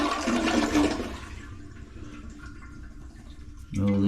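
A toilet with a freshly repaired flange finishes flushing with a strong rush that fades into a quieter trickle and refill, then a voice breaks in near the end.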